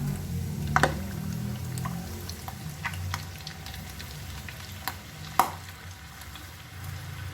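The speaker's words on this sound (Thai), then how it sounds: "ตั้งน้ำมันร้อนนะคะ ไฟไม่ต้องแรงนะคะ ใส่กุ้งลงไปเลยค่ะ" Battered shrimp deep-fry in hot soybean oil over moderate heat, a low steady sizzle broken by a few sharp pops and crackles, fairly quiet and without talking.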